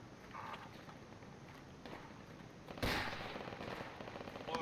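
Scattered gunshots from a video game: several sharp cracks, one louder burst near the middle, over a noisy background with some lighter clattering.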